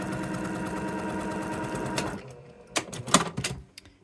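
A sewing machine stitches a quilt block seam in a steady, fast, close-up whir for about two seconds, then stops, followed by a few sharp clicks and handling taps.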